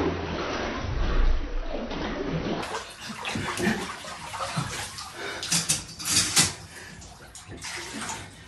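Water sloshes and splashes in an ice bath of freezing cold water as someone moves and dunks in it, a continuous close watery churn with a few louder surges.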